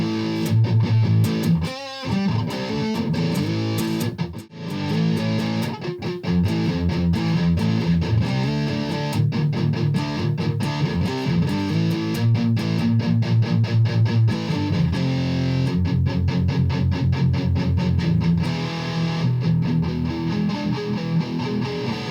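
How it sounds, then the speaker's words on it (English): An affordable Strat-style Ibanez electric guitar with single-coil ceramic pickups, played on the bridge pickup through an ultra metal distortion, sounds as heavily distorted, buzzy chords and riffs that run continuously and loud with no talk over them. "if we turn off the compressor and we turn on an ultra metal distortion, and we go back to the bridge"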